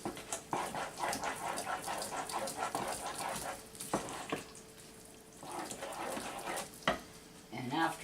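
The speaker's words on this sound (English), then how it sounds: "Stirring it. With the vanilla. It's all gotta melt and get smooth." A melting pumpkin spice mousse mixture with vanilla is stirred in a pot over heat, a soft sizzle with scattered utensil clicks and scrapes repeating at an irregular pace.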